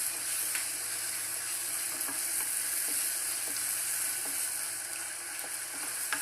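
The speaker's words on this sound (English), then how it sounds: "Saute it." Mangalorean-style egg roast masala sautéing in a pan, a steady even sizzle close up with occasional light clicks of stirring throughout, no voices.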